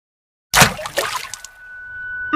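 A sudden cartoon water splash after a brief silence, a bright burst of spray and droplets that trails off into a faint hiss, followed by a thin lingering tone and a small final splash.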